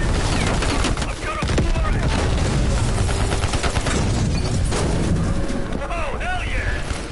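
Dense, continuous gunfire rages through a firefight in Call of Duty: Black Ops Cold War, loud and close with overlapping bursts and shots, while voices shout over the noise.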